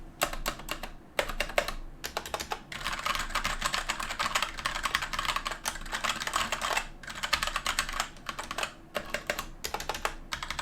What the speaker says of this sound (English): put this space bar back on so you can hear that space bar